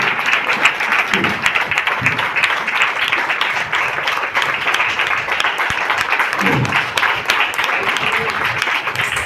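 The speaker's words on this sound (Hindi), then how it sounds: "जोरदार ताली" A seminar audience at a DXN motivational event claps in welcome for a speaker, a dense, steady patter of many hands lasting throughout, with voices mixed into the crowd noise.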